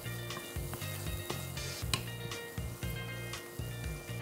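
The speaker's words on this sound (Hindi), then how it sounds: "इन सारे मसालों को हमें अच्छे से भुनना है।" Whole spices roast in a kadhai, giving a soft steady sizzle broken by regular stirring scrapes and clinks of a spoon against the pan, with no speech.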